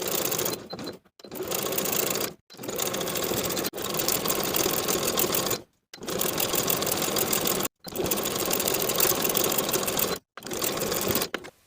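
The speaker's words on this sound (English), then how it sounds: "I'm going to use a wide zigzag stitch to edge stitch close to the raw edge on the inside all the way around" Sewing machine running a wide zigzag stitch along the raw edge of a knit top's sleeves and bodice, in steady bursts of rapid stitching broken by several short pauses, close and fairly loud with no talking.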